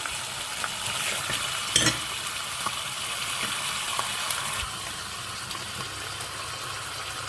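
Ground beef fries in a pan for a homemade vegetable soup, making a steady moderate sizzle with a few soft scrapes and taps as a fork presses it down, with no speech.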